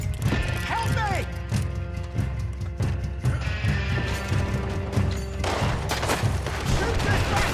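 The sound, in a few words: gunfire in a fight, from video game Red Dead Redemption 2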